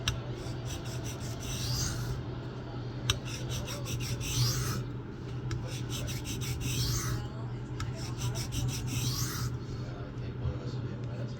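A kitchen knife being sharpened freehand, its blade scraped in steady repeated rasping strokes with short pauses between passes, close and fairly loud over a constant low hum.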